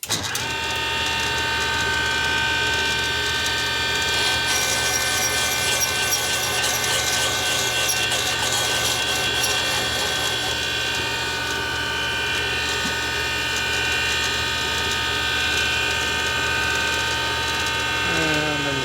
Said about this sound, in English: So I'm going to set the machine, lock it in, and turn on, make noise.